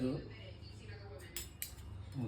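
Metal kitchenware being gathered for packing: a ladle, a spoon and a tea pot, giving a few scattered light clinks and clatters close by, with a quiet voice at the start.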